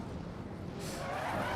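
Race cars braking hard at the Nürburgring in a racing game, engines droning close by as tires begin to squeal and skid, the sound rising slightly toward the end.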